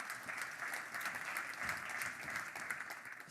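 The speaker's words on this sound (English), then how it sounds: "Round of applause, please, for Fomeno." Steady audience applause at an innovation expo, fairly quiet and distant-sounding, dense clapping holding even for the whole stretch.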